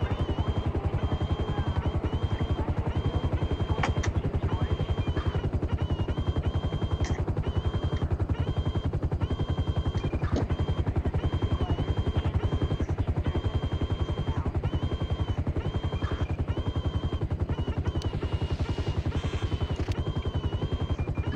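In GTA V, a helicopter's constant loud rotor drone fills the scene while bursts of rapid machine-gun fire and sharp shots cut through at intervals.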